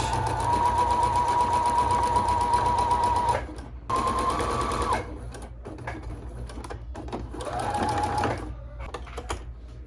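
A sewing machine stitches fabric pieces for a baby teether toy. Its steady whirring runs in bursts that stop and restart as the curved seam is guided, heard close and loud.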